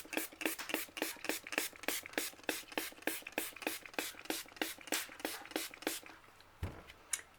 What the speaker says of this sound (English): And then you spray that again.